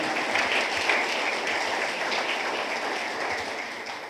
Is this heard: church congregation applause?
yes